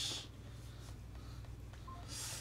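A telephone is dialed, its tones faint under a steady low hum, with a couple of short beeps near the middle.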